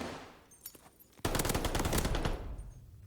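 An MP40 submachine gun fires in Call of Duty: Vanguard ranked Control on Berlin, a sudden burst of rapid automatic shots lasting about a second and a half, loud over game ambience, with a few scattered shots before it.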